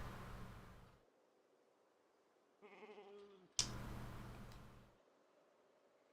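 Sheep in the video game Project Zomboid bleat twice: a short nearby bleat, then a louder, longer one, separated by quiet stretches with soft rustling noise around them.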